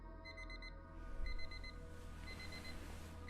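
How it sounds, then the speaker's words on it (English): An electronic alarm clock in a video game bedroom beeps in rapid repeating bursts of high tones, steady and insistent over a low ambient hum, with no voices. "let's go ahead and turn our asshole of an alarm clock off"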